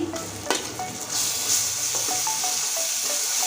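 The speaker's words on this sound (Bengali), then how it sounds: "এবার রসুনটা আর একটু লাল করে ভেজে নেব" Garlic paste frying with onions in hot oil in a pan, a bright, steady sizzle close by, broken by a few scraping stirs of a spoon.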